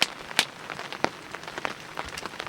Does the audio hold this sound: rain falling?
yes